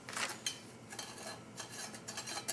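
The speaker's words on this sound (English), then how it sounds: "stir this some more to get it dissolved" A spoon stirs an MRE drink mix in a cup, giving soft scraping and light clinks of metal against the cup in short irregular strokes, close and fairly quiet.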